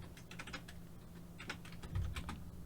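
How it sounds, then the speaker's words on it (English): Quiet clicking of typing on a computer keyboard, irregular bursts of keystrokes at close range with a low background hum and no talking. "I'm like typing it as I'm saying it"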